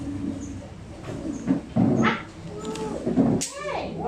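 A dog whimpers and gives short yips and barks close by, its cries mixed with people talking over them throughout.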